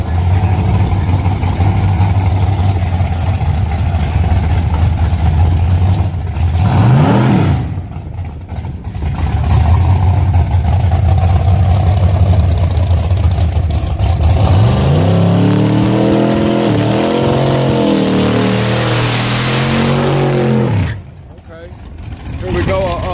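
A 1969 Camaro engine idles loudly, then revs hard through rising and falling gear sweeps on a full drag-strip pass at a track night, close and dominant with talking mixed in.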